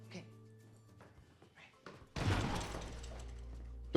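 A door slams with a heavy thunk partway through a television scene, loud and close, following quieter dialogue and background sound and leaving a sustained rumble afterward.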